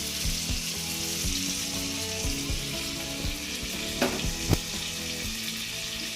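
Cumin with dried and green chillies sizzles in hot butter for paneer butter masala, a steady crackling fry throughout, broken by a couple of sharp clinks or pops near the end.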